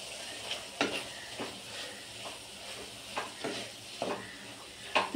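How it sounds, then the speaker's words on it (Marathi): Chilli powder and homemade garam masala sauté in a pan, a steady sizzle broken by repeated sharp scrapes and taps of a spoon stirring, with no talking. "2 मिनटं आपण मसाले परतूया"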